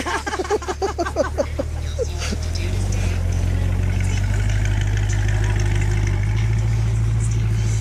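At a car show, a 1971 Ford Torino GT idles with a deep, steady, close-up rumble, while a voice is heard briefly at the start.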